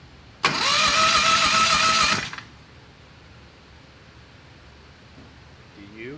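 A methanol-fueled Turbo 670 drag racing engine is cranked by its starter: a loud, steady mechanical whir lasts about two seconds, then cuts off without the engine catching, leaving quiet background hum.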